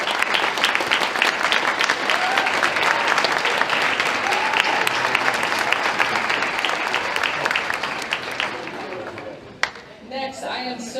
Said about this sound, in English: If our CHC parents could please stand for a round of applause.